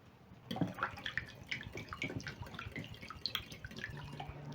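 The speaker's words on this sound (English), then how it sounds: "Lastly, I'm going to add in half a cup of cooking oil." Half a cup of cooking oil poured into a bowl of whisked wet ingredients for a chocolate cake, a quiet, close glugging and dripping trickle lasting a few seconds with no talk.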